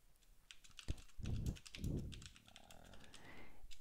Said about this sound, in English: if I type more stuff here